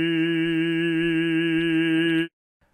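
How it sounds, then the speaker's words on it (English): A male singer holds a single sustained vowel on E3 with gentle vibrato, a rich, steady tone with strong overtones that stops abruptly after about two seconds, leaving near silence. "a male, and he's singing a sustained note on this pitch, E3, and he's changing the vowel"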